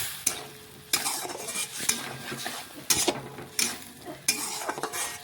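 Mustard and poppy seed paste frying with potatoes in a pan, stirred in regular strokes roughly once a second, each scrape bursting over a soft sizzle, close by with no talk.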